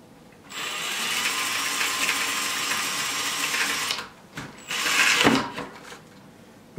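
A 7/32 drill bit bores holes into the lip of a plastic bucket. A close, whirring power drill runs steadily for several seconds, stops briefly, then whines again in a shorter burst.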